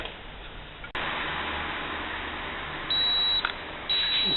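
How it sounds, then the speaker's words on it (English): Digital kitchen timer beeping in two loud, shrill, steady-pitched bursts over a constant hiss of background noise, after a sharp click near the start. "my handy dandy digital timer tells me it's been 15 minutes"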